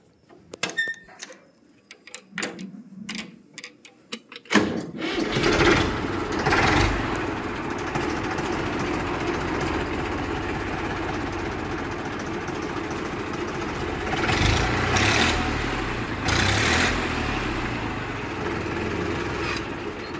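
A 2004 Massey Ferguson 1035 DI diesel tractor starts after a few seconds of clicks and knocks, then idles with a steady, close, chugging rumble and brief revs near the end.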